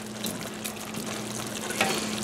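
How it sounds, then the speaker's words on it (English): Paneer butter masala sauce bubbling at a medium-low simmer in a pan, a soft, even sizzle with small pops heard up close and no talk. "reduce to a medium-low simmer here"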